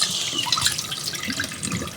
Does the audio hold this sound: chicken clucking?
no